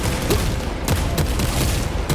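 Enemy gunfire in the video game Space Marine 2: a dense, continuous barrage of overlapping shots and booms, with sharper cracks standing out now and then, loud and unbroken across the short stretch.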